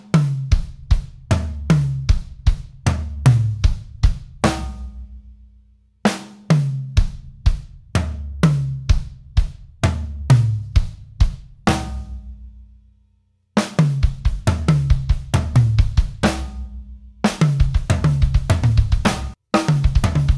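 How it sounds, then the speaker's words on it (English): A drum kit fill played slowly down the toms and ending in a double stop on the snare and floor tom, repeated in loud, close phrases of rapid hits separated by short gaps. "we're gonna move it down the toms and then end with a double stop on the snare and the floor tom"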